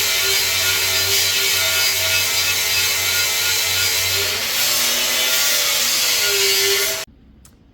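Steel pipe being smoothed down to match a contour for firebox joinery, a loud continuous grinding rasp with a slight waver in pitch, running steadily for about seven seconds before cutting off abruptly.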